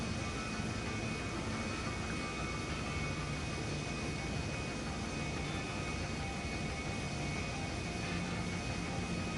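Steady, loud aircraft engine drone from a plane in GTA Online, holding an even broadband roar with faint tonal whine for the full stretch, no voices over it.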